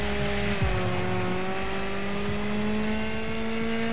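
Race car engine in the Dirt 5 video game holds a steady, loud drone with a gradually climbing pitch, and faint tire noise runs underneath throughout.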